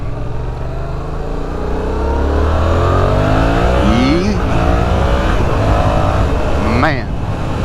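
A Yamaha MT-07 motorcycle fitted with an R6 throttle tube revs its engine steadily and loudly up close, with rising and falling pitch sweeps as the throttle opens and closes, while someone talks over it.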